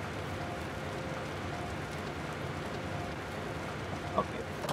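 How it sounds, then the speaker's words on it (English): Steady rain falling in Minecraft with the Industrial Craft mod, an even broadband hiss that holds unchanged throughout with one brief soft click near the end. "Okay, so raining."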